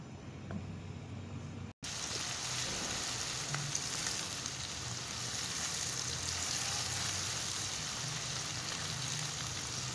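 Onions fry in a pan until light golden for a chicken mash dal, a steady soft sizzle running continuously after a brief gap near the start.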